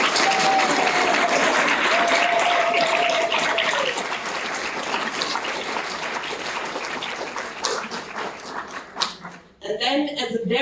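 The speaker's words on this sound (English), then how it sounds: "all the others can please give a big round of applause to those who have been" At a closing session in Sopot, Poland, the audience gives a big round of applause that gradually fades, and a speaker's voice returns at the end.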